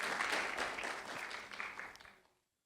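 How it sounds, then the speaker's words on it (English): A conference audience gives a brief round of applause, a dense wash of many hands clapping that holds steady and then fades to silence within a couple of seconds. "So just a round of applause to the conference organizers, the abstract winners, please."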